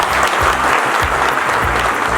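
Steady crowd applause for athletes at a Jammu district sports gathering, loud and continuous throughout with dense clapping and no break.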